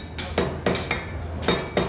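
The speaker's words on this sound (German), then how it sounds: "die alte Technik des Schmiedens unter drei Hämmern beherrschen" Blacksmiths hammering horseshoes at a forge with three hammers: a sequence of about six ringing metallic strikes in a quick, slightly uneven rhythm, close and clear with bright resonant tails.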